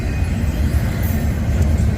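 A westbound CSX intermodal freight train with a single locomotive up front, slowing down, gives a steady low rumble of rolling railcars nearby with faint high squeals from the wheels.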